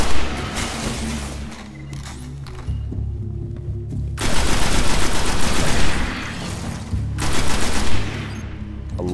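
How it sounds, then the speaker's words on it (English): Weapons fire in Destiny, including a shotgun, with loud bursts of rapid gunfire alternating with heavy single blasts and echoing booms, up close and dominating the scene. "I love how all the weapons sound in this. Especially the shotgun."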